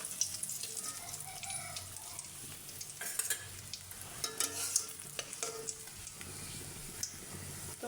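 Fish frying in hot oil in a pan, a soft continuous sizzle with scattered pops, scrapes and a few clinks of a utensil, fairly quiet and with no voices.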